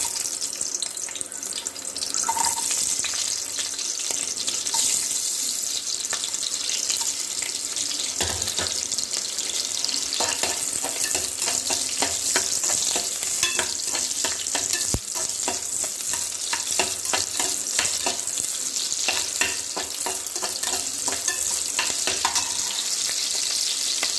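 Onions fry in hot sesame oil for mutton bone soup, a loud, continuous sizzle and crackle that holds steady throughout, with a few faint stirring clinks.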